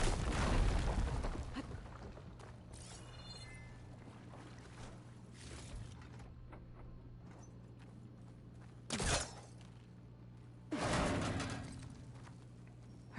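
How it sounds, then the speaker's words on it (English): A firegleam deposit blows up in Horizon Forbidden West: a loud burst at the start fades into a low steady hum, followed later by two shorter sharp bursts of noise. "Should be able to blow up that fire gleam."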